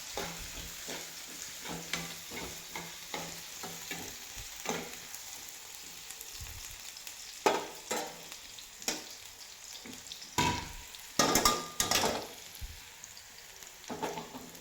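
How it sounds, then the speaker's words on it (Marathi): Onions frying in a pan while egg biryani is being made, giving a soft crackling sizzle broken by repeated stirring scrapes and taps. Sharper bursts come near the end, with no voices. "कांदा तळत आहे"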